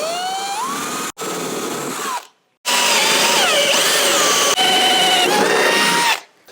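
A power drill with a 7mm bit whining loudly in two long runs while drilling holes for rivet nuts on a Land Rover Discovery, pitch rising and dipping under load, with a brief pause between them.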